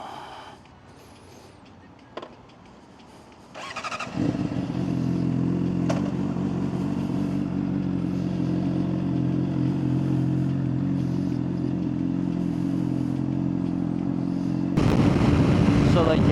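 A Yamaha R9 sport motorcycle revs hard at full throttle, its engine rising to a loud, sustained roar after a quieter start, close to the rider, with wind buffeting and a voice over the top.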